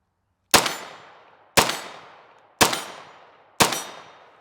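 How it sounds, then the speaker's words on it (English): Four sharp rifle shots from a Flux Raider ring out alone at an even one-second pace, each a loud crack with a decaying tail. "he's just gonna shoot a few hundred rounds out of it, suppressed, not suppressed"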